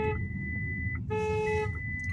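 A Skoda Enyaq's electronic warning chime beeps in two repeated tones during an Emergency Assist stop, over low engine and road rumble inside the cabin.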